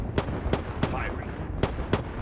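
Bursts of gunfire in a shooter video game, five sharp shots spaced irregularly over a steady background rumble, loud and close, with no talking.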